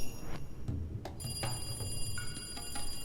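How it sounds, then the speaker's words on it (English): Telephone ringing inside a house, heard as a faint ring pattern with repeated bell-like pulses over a noisy low background, with no voices. "As soon as I put the phone down, it rang again."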